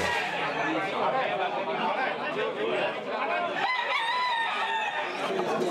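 Several roosters crow repeatedly at a cockfight in Guadeloupe, their calls overlapping above the dense, steady chatter of a crowd.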